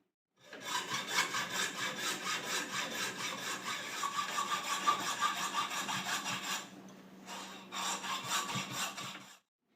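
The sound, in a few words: sawing deer horns off the original skull base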